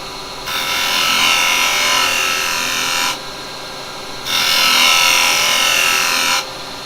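A lathe chisel takes small cuts in firewood on a woodturning lathe, making two long, loud, harsh shearing passes separated by a brief quieter gap. The cutting is close, with no voice over it.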